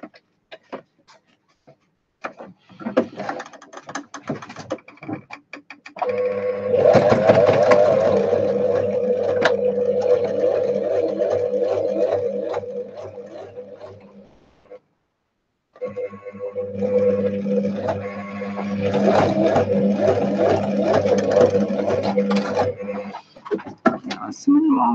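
A sewing machine stitching fabric for a handmade pocket book, running in two long steady bursts of rapid mechanical chatter separated by a pause, with scattered ticks and handling clicks before the first run.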